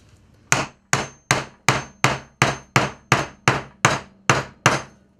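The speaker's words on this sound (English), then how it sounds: "give it one little tap to start it, like that, or three little taps" A hammer strikes a chisel held against pallet wood, giving twelve sharp, evenly spaced metallic knocks, each ringing briefly before fading. The strikes are close and loud with no voices.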